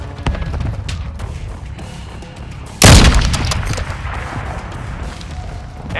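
Mortar strike explosions in Call of Duty: Modern Warfare 2 Ground War: a loud, sharp blast near the middle with a rolling decay, set among scattered distant gunfire and battlefield noise.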